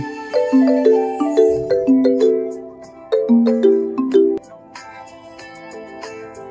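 A phone rings with a bright, stepping melodic tune that plays through twice before cutting off.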